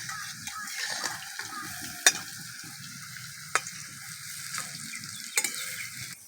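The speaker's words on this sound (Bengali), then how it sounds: "বড়াগুলো ভাজতে কিন্তু বেশি টাইম লাগবে না" Lentil fritters (bora) of red masoor dal frying in hot oil, a steady close crackling sizzle with a few sharp clinks of a utensil against the pan scattered through it.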